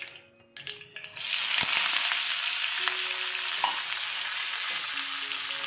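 Chopped carrot, onion and curry leaves hit hot oil in a pan for a carrot thoran, setting off a loud, steady sizzle that starts about a second in and holds evenly throughout, with no talking.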